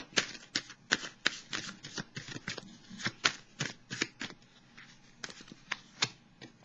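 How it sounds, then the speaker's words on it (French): Tarot cards are handled and drawn from a deck, producing a quick series of crisp, close papery flicks and snaps in an irregular rhythm, fairly loud against an otherwise quiet background. "Je vais piger une carte pour déposer sur ces trois cartes-là"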